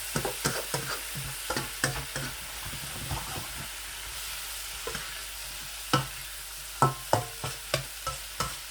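Soy sauce is stirred into a chicken noodle mixture in a hot pan, with a steady sizzle and hiss. Sharp utensil scrapes and clacks come at an uneven rhythm, growing louder toward the end, and no one speaks.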